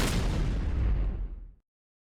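A single loud explosive blast in a video game, crafted to break out of a dark place, bursts at full strength and rumbles for about a second and a half before cutting off into silence.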